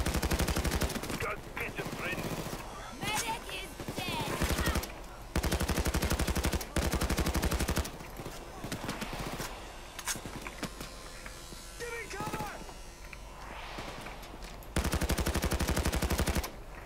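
Bursts of automatic gunfire in the heist shooter Payday 2, loud rapid volleys in several stretches with quieter game ambience and a talking voice between them.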